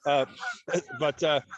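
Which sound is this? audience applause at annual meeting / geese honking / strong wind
geese honking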